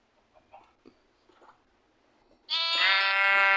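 A sheep in the Minecraft video game lets out a loud, wavering bleat near the end, after a stretch of quiet with soft game clicks and shuffling.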